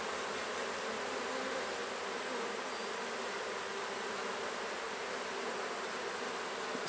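Honeybees buzzing steadily and densely during a beehive inspection, a continuous close hum of many insects with no breaks and no voices.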